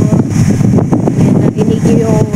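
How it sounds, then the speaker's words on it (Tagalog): Gusty wind buffets the microphone outdoors on a scooter ride, a dense, rumbling roar that stays loud and constant throughout. "narinig nyo yung hangin"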